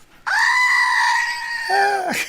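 A toy goat lets out a single loud, sustained scream-like bleat lasting about two seconds, close and alone, dropping in pitch near the end.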